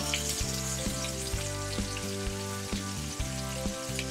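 A stuffed chicken breast sizzles steadily in a hot frying pan just after being flipped, a dense crackle of oil spitting and popping continuously at close range with no voices.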